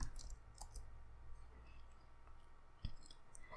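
A computer mouse clicking while working in Blender, a few faint, sharp clicks spaced apart over a low background hum, with no talk.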